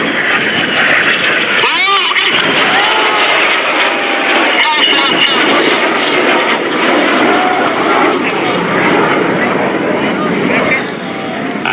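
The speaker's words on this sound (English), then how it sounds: "As the aircraft pull out behind us, the smoke goes off." RAF Red Arrows jets roaring through a display at the New York International Air Show, a loud continuous engine rush filling the whole stretch, with a commentator talking over it.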